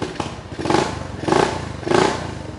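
Custom Honda Monkey motorcycle built on a Honda Kharisma base, its engine running close by with three rising surges like blips of the throttle, each swelling and falling back over a rough idle.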